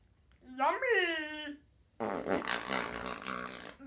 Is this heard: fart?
yes